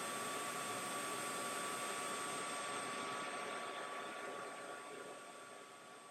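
Steady, loud whirring and hissing from an xTool F1 laser engraver with its fume extraction as it cuts card, continuous with faint tonal whines, easing slightly toward the end.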